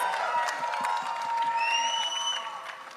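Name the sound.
audience applause and cheers at press meet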